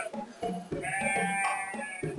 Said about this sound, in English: My sheep are great, they love a good read.